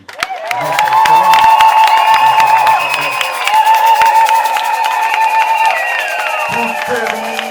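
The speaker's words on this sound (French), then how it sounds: "Applaudissez quand même." A crowd claps and cheers at a coronation ceremony naming an ambassador, with loud whoops and shouts over the applause and musical tones ringing through it for the full length.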